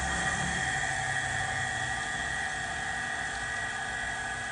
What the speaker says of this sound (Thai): รู้สึกว่าเสียง เสียงปั๊มจะเริ่มเปลี่ยนละ